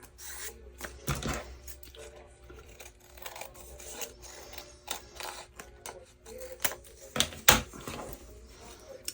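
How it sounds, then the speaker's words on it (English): Scissors cut through paper scraps for a junk journal, a series of quiet, close snips and rustling rubs in an irregular rhythm, with a person talking softly in between. "So I'm going to cut this off right here."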